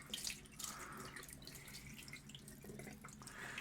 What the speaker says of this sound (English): now I just use the water, tap water, lukewarm tap water, to rinse the mirror